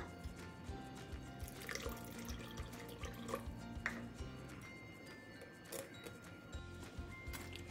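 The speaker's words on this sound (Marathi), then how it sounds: "आपण अजून थोडंसं पाणी घालूयात." Water trickles and drips faintly into semolina batter in a kitchen, soft irregular splashes and small ticks at low level with no voices.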